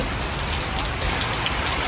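Heavy rain falls steadily onto surfaces close by, a dense, even patter that stays loud throughout with no voices.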